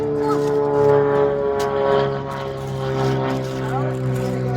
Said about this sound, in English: Sorry for that plane flying over.